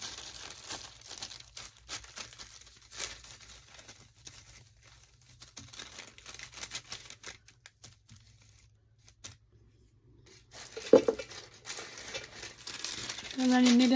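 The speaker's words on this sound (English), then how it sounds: "I'm going to put a piece of parchment paper" Parchment paper crinkles and rustles inside a bag in bursts of close handling noise, with a louder rustle near the end.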